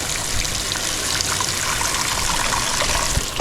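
A newly plumbed outdoor shower with a hot and cold mixer sprays water continuously, a dense, even hiss and patter heard close up without any talking.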